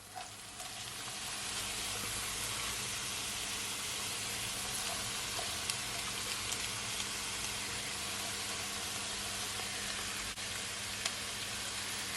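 Vegetables hit a hot pan for chicken stir fry noodles, bringing a steady, loud, broadband sizzle that swells after the first second and holds without a break, no talking.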